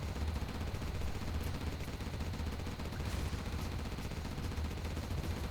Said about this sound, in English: One Gatling cannon to shoot helix.